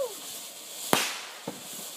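A firework cannon fires at a family fireworks night outdoors, one sharp loud bang followed by a second, smaller pop about half a second later, with a brief whistle just before and people talking nearby.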